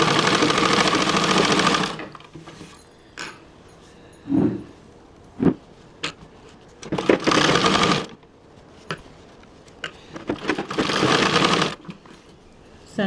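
Sewing machine stitching a blouse, running in three loud sustained bursts separated by quieter pauses with small clicks and handling sounds between them.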